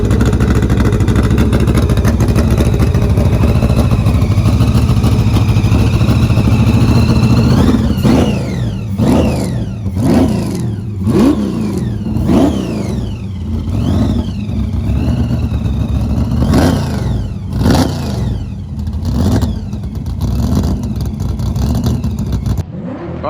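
A car doing burnouts at a pit bay, its engine bouncing hard off the rev limiter as the tyres spin up. It is loud and close throughout, with a steady roaring drone followed by rapid repeated revving pulses.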